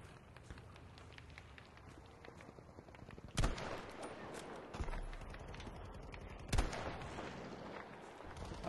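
Gunfire in the Battlefield 5 video game on PS4: a few sharp shots and bursts stand out over a low, busy battlefield background, with no talk in the clip.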